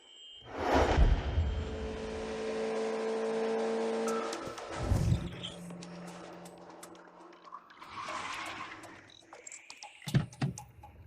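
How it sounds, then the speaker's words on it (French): Car speeding through town and nearly hitting someone, a loud engine rush and revving roar building up close, then a sharp skid-like burst and scattered clatter as it settles. "Tu roules en excès en ville et tu as failli me percuter."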